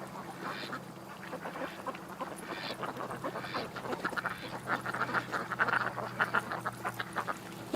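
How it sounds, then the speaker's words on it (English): Ducks quack and geese honk in a restless flock outdoors, calls overlapping continuously at moderate distance over a low background hum. "Oh, I gotta get above the geese here. I'm freaking the geese out."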